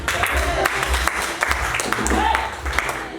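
A church congregation applauds together in steady, dense clapping that carries across the whole moment, fairly loud and close, with voices mixed in beneath the claps.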